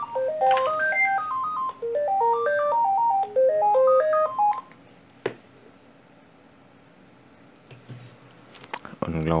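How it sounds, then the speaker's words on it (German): A telephone ringtone plays a repeated rising-and-falling melodic pattern for about four seconds and then stops, leaving quiet room noise with a few clicks and brief sounds near the end. "jetzt kriegen wir auch nochmal ein Telefon"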